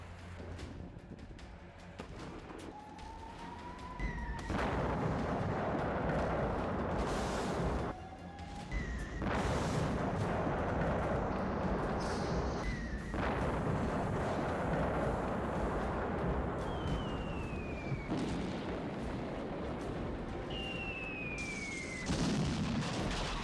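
Missile strikes and explosions hitting the Ukrainian city of Kharkiv, with repeated loud booms and a sustained roar of blasts. Whistling descending tones recur throughout, and no voices are heard.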